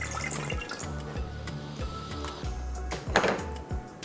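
Water pours into a cooking vessel for mango pachadi, a soft, steady trickle and splash with faint rhythmic knocks, close and fairly quiet, with no voices.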